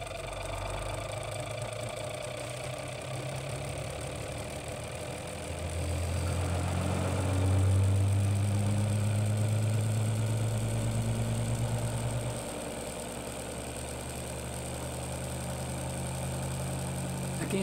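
A homemade JL-94 magnet rotor generator motor runs on test with a steady mechanical hum that swells louder and deeper midway, holds for several seconds, then settles back to a lighter drone.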